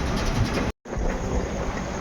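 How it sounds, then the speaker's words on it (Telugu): The 12633 Kanyakumari Express pulls into Kanyakumari station with a loud, steady rail rumble that drops out for a moment and then resumes. "ఇది కన్యాకుమారి స్టేషన్కి అయితే చేరుకోవడం జరిగింది మన బండి."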